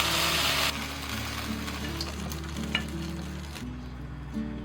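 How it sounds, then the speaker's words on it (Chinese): Chicken with side vegetables stir-fried in a wok gives a steady sizzle with scraping tosses, plus a low hum that stops near the end, and no voices. "出锅前再把这些配菜放上去，给它翻炒啊"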